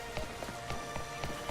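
Steady rain falls in a video game, a continuous hiss with soft, regular tapping steps moving through it, at moderate loudness with no talking.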